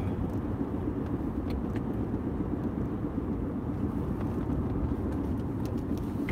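A car driving along Mulholland Drive, heard from inside as a steady, loud low road and engine rumble with no break, with faint higher tire hiss above it.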